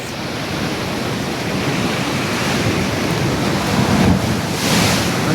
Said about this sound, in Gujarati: આ બાજુલી પાણી આવે અને આ પડખેલી પાણી આવે બે બાજુલી પાણી આવે છે